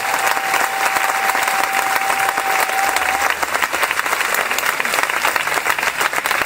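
A church congregation at a Catholic evangelisation service breaks into steady, dense applause that fills the space evenly, with a faint sustained tone over the first half.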